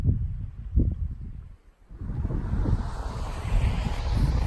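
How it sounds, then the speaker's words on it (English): Strong wind buffets the microphone in heavy gusts, easing briefly before roaring back louder. "Still really windy"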